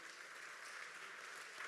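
A church congregation claps steadily together during a worship service, a dense, even wash of hand claps held at a fairly quiet, distant level throughout.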